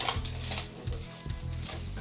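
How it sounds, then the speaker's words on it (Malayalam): Chicken frying in a pan while being stirred for noodles, a continuous close sizzle with repeated scraping strokes of the spoon, no talking. "ഇനി നമുക്ക് ചിക്കൻ ഇളക്കി കൊടുക്കാം."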